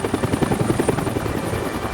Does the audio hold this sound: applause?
no